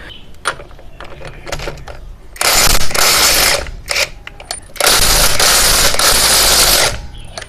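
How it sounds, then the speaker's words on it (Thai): A car wheel's lug nuts being loosened with a tool, loud mechanical ratcheting and bursts of whirring impact noise in two long runs, with clanks between, close and without talk. "ในเบื้องต้นเดี๋ยวผมถอดล้อนี่ออกก่อนแล้วกันนะครับ"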